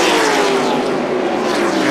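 A NASCAR stock car roars past at full racing speed at Talladega during the 1995 DieHard 500. The engine makes a loud, continuous, close blare with no gaps.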